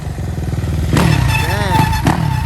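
Kawasaki KX450F dirt bike engine revving while being ridden, a loud pulsing four-stroke roar rising in pitch, with people talking nearby.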